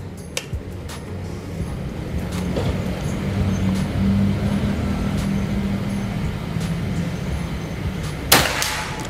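A Bocap Escobar PCP air rifle fires a single sharp shot near the end, standing out against a steady low background rumble.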